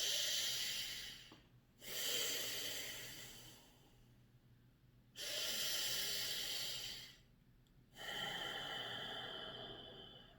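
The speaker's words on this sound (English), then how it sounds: "just going to take 3 big conscious breaths deeply into the nose, into the belly." Deep, slow breaths drawn in through the nose during a guided breathwork session, heard as three long airy inhales with quieter pauses between, close and steady with no talking over them.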